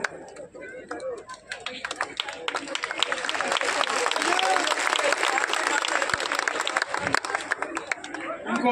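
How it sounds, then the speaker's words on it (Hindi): Audience applause at an Ekadashi devotional bhajan gathering at Sanwariya Bhawan, dense sustained clapping from a crowd that swells and holds steady throughout, with background chatter mixed in. "एक बार बहन जी के लिए भी ताली बजाए, एक बार माँ के लिए"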